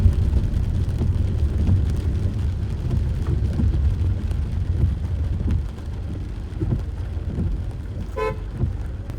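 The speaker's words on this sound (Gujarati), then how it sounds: "ધબધબાટી સાથે સવારથી જ વરસાદ પડી રહ્યો છે." Heavy first-monsoon rain in Bodeli, Gujarat, pours down steadily with passing road traffic in the background and a short car horn toot near the end.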